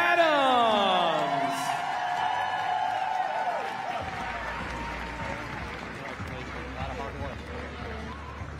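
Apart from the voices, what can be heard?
crowd cheering and applause for CrossFit Games podium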